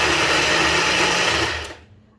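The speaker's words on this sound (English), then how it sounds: "If you're using the blender that has ice maker, just keep using the ice to pulse it and pulse and all that." A powerful blender pulses ice for orange chocolate ice cream, a loud, dense whirring grind that runs steadily for about a second and a half before winding down and stopping.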